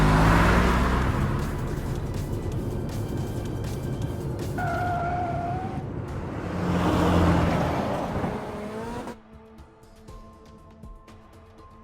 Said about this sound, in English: The car emerges from the tunnel and races through the streets of the killing zone.